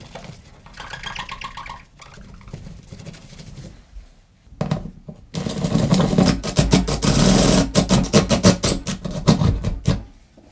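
A power drill bores a hole into a bathroom wall: a short whirring burst, a pause, then a louder, sustained rough grinding run that stops abruptly.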